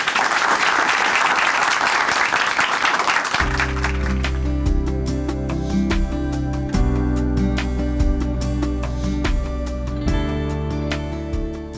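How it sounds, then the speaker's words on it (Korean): Loud applause from a church audience welcoming a speaker, a dense wash of clapping that fills the opening seconds before music with steady beats takes over underneath and runs to the end. "춘천 한마음교회 정현동 형제님 박수로 모십니다."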